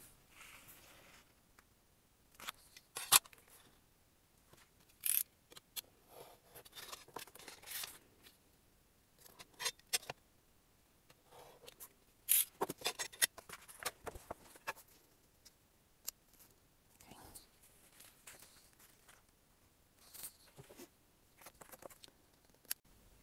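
Paper being cut for a steampunk journal, sparse close snips, clicks and rustles scattered irregularly over a quiet background, with no talk.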